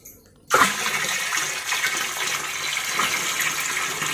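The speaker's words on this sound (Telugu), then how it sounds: "ఇప్పుడు మనం బెల్లం పానకాన్ని నీళ్ళల్లో కలుపుతున్నాం" Jaggery syrup suddenly gushes and pours steadily into water, a continuous splashing rush that lasts to the end, close by.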